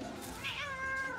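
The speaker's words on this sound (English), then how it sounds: "that cat is back talking you." A cat gives a single clear meow, rising then falling over about a second, close and fairly loud against a quiet background with no talking over it.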